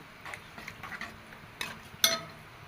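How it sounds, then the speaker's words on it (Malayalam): Grated coconut stirred with jaggery syrup in a pan: faint, sparse scraping and clinking strokes of a spoon, with one louder scrape near the end over a quiet background. "ഇതൊന്ന് നന്നായിട്ടൊന്ന് വഴറ്റിയെടുക്കാം"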